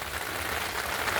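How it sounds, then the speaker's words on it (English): Steady rain falling outdoors where a mechanic is replacing the lower control arm on a 2014-2019 Toyota Corolla 1.8L, a continuous even hiss of close drops with no pauses. "Now we got rain."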